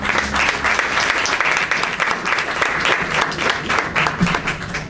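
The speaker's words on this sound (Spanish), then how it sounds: "Recibimos con un aplauso a nuestros dos panelistas" An audience at a formal panel event claps steadily to welcome two panelists, dense sustained applause filling the room from start to finish.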